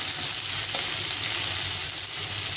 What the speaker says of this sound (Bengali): পেঁয়াজটা একটু অল্প ভাজা হবে, মানে সবজির সঙ্গে এটা ভাজা হয়ে যাবে